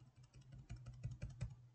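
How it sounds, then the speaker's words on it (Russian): Computer keyboard keys are pressed while artwork is nudged in a graphics program during screen-printing color separation. A series of quiet, soft taps speeds up into a quick run of presses. "Просто с клавиатуры я сейчас двигаю."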